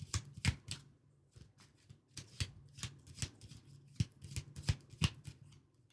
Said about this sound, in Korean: 자, 추가 카드 뽑아보겠습니다.